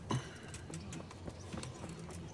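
Horse hooves clip-clop at a steady walking rhythm in the medieval video game Kingdom Come Deliverance, a moderately close, soft series of hoof strikes over a quiet background.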